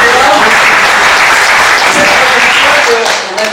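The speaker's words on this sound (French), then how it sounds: "on applaudit" A lecture audience gives loud, sustained applause, a dense wash of clapping from many hands that fills the whole stretch, with faint voices underneath before it begins to thin at the very end.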